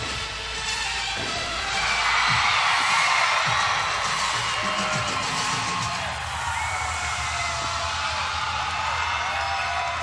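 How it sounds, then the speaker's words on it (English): Oklahoma fans cheering and whooping in a crowded arena during a 2016 NCAA women's gymnastics semifinal, a broad, sustained roar of voices at a distance that swells partway through. "can really hear the Oklahoma fans cheering on their athletes"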